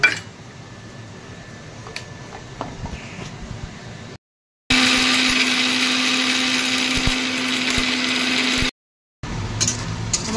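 An electric grinder grinds homemade garam masala for chicken biryani in one loud, whirring burst of about four seconds. Quieter kitchen sounds come before and after it.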